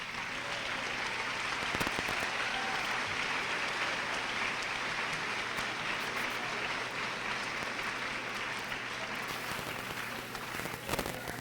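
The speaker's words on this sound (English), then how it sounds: "please stand up for a round of applause" A large crowd at an eighth-grade graduation ceremony applauds steadily, dense clapping that holds at an even level for several seconds.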